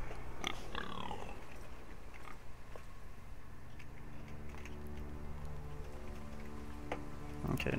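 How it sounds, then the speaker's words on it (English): A pig grunting and snuffling in the game Game of Thrones by Telltale, short oinks near the start alongside a person talking, followed by low background music and scattered clicks. "Ooh, hello there, Mr. Pig."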